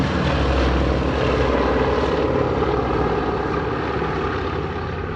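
Four-engine B-17 bombers drone in flight, a dense, continuous, loud propeller and piston-engine roar with a slight pulsing throb and no break.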